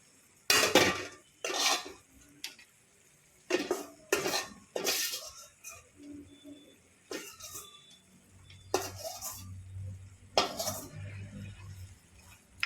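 Carrot halwa with dry fruits being stirred in a pan, a spoon scraping and clinking against the metal in irregular bursts separated by short pauses, close and clear with a low hum partway through.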